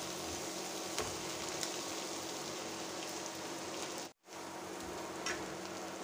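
Chili and garlic softening in a frying pan produce a steady, rain-like crackling sizzle at moderate volume, broken once by a short silence before continuing.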